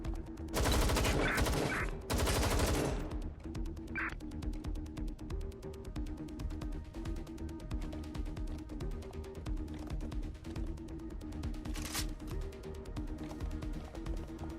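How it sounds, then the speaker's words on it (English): Gunfire in the video game Watch Dogs Legion: a loud burst of rapid shots opens, followed by scattered single cracks over a throbbing musical background, with another short loud burst near the end. "Gunfire!"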